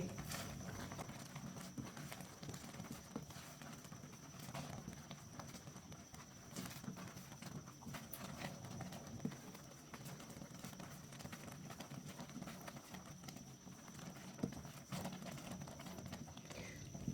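Thick rice kheer bubbling and splattering in a pot on the stove, a steady soft patter of small pops and plops, faint and continuous, with someone speaking occasionally.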